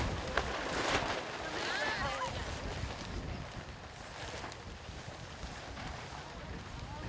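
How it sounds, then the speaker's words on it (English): Strong gusts buffet the microphone at the Cahokia Mounds archaeological dig site, a continuous loud rumbling roar with surging peaks, while people talk faintly underneath. "the wind's too strong"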